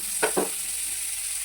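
Butter dropped into a hot pan for a Marathi vegetable dish gives two brief sizzling bursts close by, then a steady faint hiss without talk.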